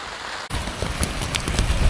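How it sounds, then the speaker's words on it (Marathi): Heavy rain pouring down by a riverside during crab catching, starting abruptly and then hissing steadily with close, dense drops pattering on surfaces. "पाऊस सुद्धा लई पडायला लागलाय आता."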